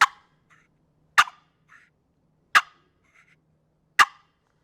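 A turkey putt alarm call imitated on a hand-held turkey call: four loud, sharp, single notes spaced about a second apart, close and alone with only faint softer notes between them.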